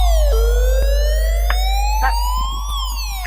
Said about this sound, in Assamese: ছাৰ এইখন এখন পুলিচৰ গাড়ী আহিছে